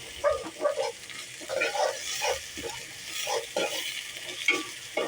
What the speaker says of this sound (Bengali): দেওয়ার পর আমি এখন পেঁয়াজটাকে একটু লাড়া দেব।